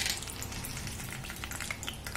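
Peanuts roasting in hot oil in a kadhai while making poha give a steady, close crackling sizzle with scattered pops, continuous for the whole stretch.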